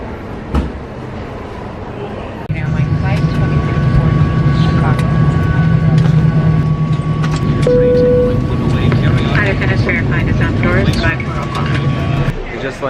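Steady, loud low-frequency roar inside an airplane on a flight to Chicago O'Hare, with a faint tonal hum and brief chime-like tones on top. A quieter stretch of cabin noise comes before the roar sets in.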